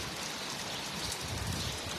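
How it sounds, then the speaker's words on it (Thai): Rain pouring down outdoors after an evening stage show, a steady dense hiss of falling drops that stays even and continuous throughout, with no voices. "ฝนเทลงมา"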